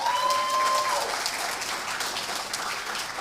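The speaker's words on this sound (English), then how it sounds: "let's all give her a big round of applause" An audience applauds after a children's school production of Disney's Frozen Kids. The clapping is steady and fills the whole clip, with a brief whistle-like tone near the start.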